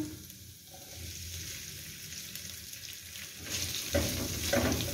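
Quiet sizzling of chicken frying in a pan with garlic paste, with faint stirring and scraping that grows a little louder toward the end.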